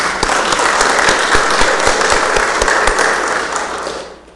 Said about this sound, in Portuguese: em pé, saudemos o pavilhão nacional com uma salva de palmas